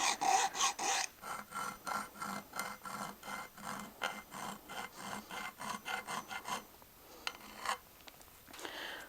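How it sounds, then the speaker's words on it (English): A metal file works back and forth across the front strap of a 1911 pistol, cleaning burrs from fresh checkering, giving a steady series of close, rhythmic rasping strokes that thin out and slow near the end. "I'm just going through and cleaning up any burrs from the main filing."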